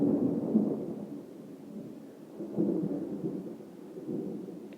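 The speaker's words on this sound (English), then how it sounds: "I'm going to be recording this chapter in the middle of a thunderstorm." A thunderstorm heard from indoors, deep rolling rumbles of thunder swelling and fading in waves over a soft wash of rain, fairly faint and distant, with no one speaking.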